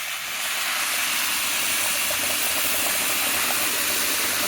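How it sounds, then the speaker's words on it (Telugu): Hot water hits a hot pan of wheat rava upma, setting off a loud, steady steaming hiss and sizzle that holds evenly after a brief start. "వేడి నీళ్ళు వేసుకున్నాను. వేడి నీళ్ళు పెట్టుకొని వేసుకోవాలండి."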